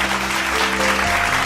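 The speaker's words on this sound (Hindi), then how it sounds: "सभी के लिए तालियां हो जाए." An audience at a school annual function claps in a loud, steady, dense wash throughout, over a low constant hum.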